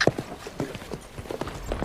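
Hooves clip-clop at a steady walking pace on hard ground, close and moderately loud, with no talking.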